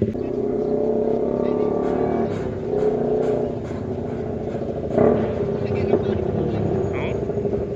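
A large motorbike engine rumbles steadily with a couple of sharper revs, close by, with people talking over it.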